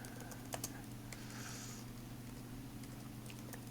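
Quiet computer keyboard typing during pseudocode writing: sparse, faint key taps scattered over a steady low electrical hum, no talking.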